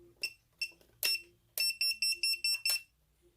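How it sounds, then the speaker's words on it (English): Drone buzzer on a Kingkong 110GT quadcopter sounding in a series of sharp electronic beeps, several spaced chirps and then a quick run of five or six close pulses, loud and alone with no talk. "So how to add OSD and a buzzer"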